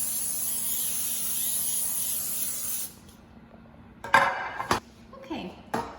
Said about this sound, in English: I'm gonna spray the pan,